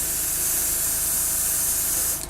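Steady, broad hiss of an airbrush spraying paint at 15 psi on a scale model, continuous and close, tapering off at the very end.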